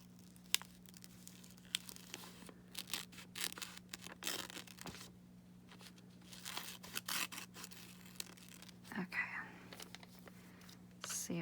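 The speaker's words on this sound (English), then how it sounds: "Let's cut this piece off here. Go right around this bottom edge." Scissors snip quietly through paper for a collage art journal, a series of faint close crisp cuts and rustles over a low steady hum, with soft whispery sounds between the snips.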